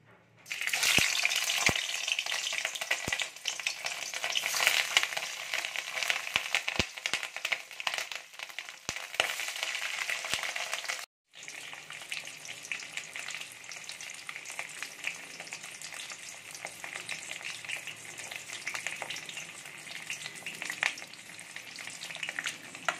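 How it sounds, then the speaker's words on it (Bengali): Boiled egg pieces fry in hot oil in a wok, a loud, steady sizzle with crackling pops and occasional stirring, dropping to a softer hiss after a brief break midway. "এবারে এই যে সেদ্ধ করে রাখা ডিমের পিসগুলো আমি একে একে ভেজে নেব।"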